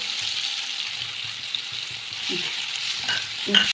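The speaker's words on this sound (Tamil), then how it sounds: "நல்லா மசாலா எல்லாம் எண்ணெயில் நல்லா வதக்கியாச்சு" Kara kuzhambu masala powder fries in hot oil for a garlic curry, giving a steady close sizzle with a few stirring scrapes and clinks of a spoon toward the end, no one speaking.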